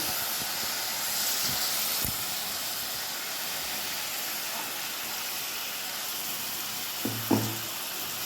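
Ginger garlic paste sizzles in a pan with tomatoes for veg keema masala, a steady hissing fry throughout with a couple of brief utensil knocks near the end.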